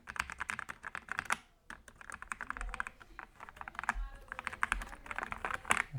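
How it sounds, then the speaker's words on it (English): Rapid typing on an Attack Shark X85 Pro mechanical keyboard, a close, busy stream of crisp clacking keystrokes with brief pauses and a few heavier thocks, heard without talk. "you can kind of see what the noise is produced by those keys."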